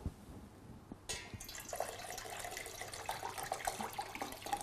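Grape juice pours into a glass for a cocktail after a short quiet start, a close, soft, continuous liquid trickle and splash lasting a few seconds with no talking.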